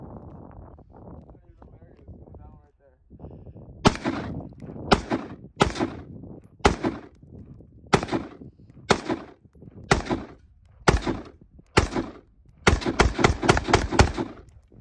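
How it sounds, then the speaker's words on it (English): A Springfield Hellcat PRO pistol is fired outdoors: about a dozen loud, sharp shots, spaced at first and then a quick string at the end, after a stretch of quieter sounds and faint voices. "This is after shooting the Springfield Hellcat PRO."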